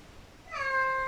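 A cat gives a single clear, rising meow that starts halfway through and holds briefly, heard close and alone against quiet background.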